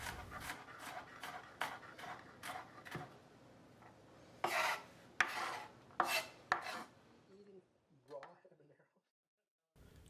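A knife chops ingredients for pineapple and bacon wrapped ribs on a cutting board, delivering quick, crisp strikes in irregular bursts close by, then trailing off into faint handling sounds and silence near the end.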